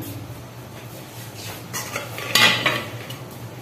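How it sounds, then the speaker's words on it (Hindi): Cooked basmati rice for jaggery rice is scooped into a serving dish, giving soft scraping and a bright metallic clink of a spoon against the pot, close and brief. "ये देखें, इसको डिश में निकालती हूँ।"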